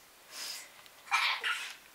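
A person's sneeze, a sharp breathy burst with a short intake before it, followed by a second louder double sneeze close to the microphone in an otherwise quiet room.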